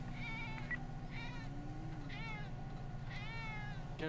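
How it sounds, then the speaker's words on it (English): Several drawn-out cat meows rise and fall over a steady low hum at a roadside police stop, each cry clear and repeated at intervals against the background drone. "What is that cat doing, dude?"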